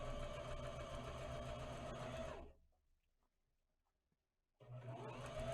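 A Janome HD 3000 BE sewing machine stitches a fabric mask at stitch length 2, with a steady, close whirring run that stops for about two seconds, then starts up again.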